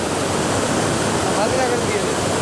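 A powerful roar of water gushing from opened dam gates, loud and unbroken, with a faint voice barely audible beneath it.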